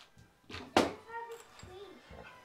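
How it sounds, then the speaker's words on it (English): A cat meows a few times indoors, close and fairly clear, with brief soft human sounds around it. "There's a cat."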